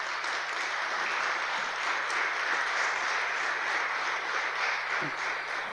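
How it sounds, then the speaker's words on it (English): Steady, dense applause from an assembled audience at a school prefectorial investiture ceremony, a sustained clapping wash that holds evenly from start to finish with no voices over it. "Give yourself a round of applause."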